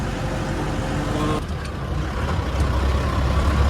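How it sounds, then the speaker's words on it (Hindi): A Mahindra engine fitted in a Maruti 800 car rumbles steadily during an engine test after an engine change, low and close, with a brief shift in tone partway through and no clear speech. "अब यहाँ से इंजन टेस्ट होएगा"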